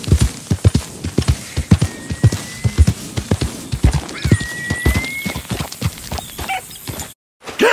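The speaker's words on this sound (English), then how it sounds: "Get your horses ready." Horses in Red Dead Redemption 2 trot close by with steady, rhythmic hoof clip-clops, overlapping into a brisk gait, while a horse neighs briefly partway through.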